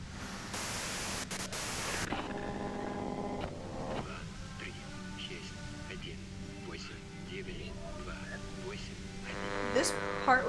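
Broad static hiss from a radio in the game Disco Elysium, a steady wash of white noise over the opening seconds that gives way to quieter tonal game sounds and murmured voices.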